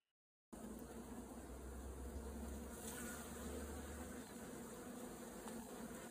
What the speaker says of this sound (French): Donc ça c'est une abeille qui est